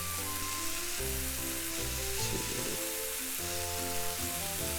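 Tomato ketchup sauce frying in a pan with white wine for Japanese Napolitan spaghetti: a dense, steady sizzle that fills the clip, with tonal hum below and no one talking.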